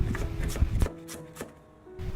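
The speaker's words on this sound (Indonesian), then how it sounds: "kita iris panjang-panjang tipis seperti ini" Raw cabbage is sliced into thin long strips with a kitchen knife on a cutting board, giving a quick series of crisp cutting strokes that pause briefly, then resume faintly.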